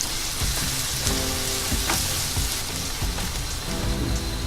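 Chopped onion sizzles and fries in hot oil with ginger and garlic paste added, giving a loud, continuous crackling hiss close up, with faint stirring sounds under it.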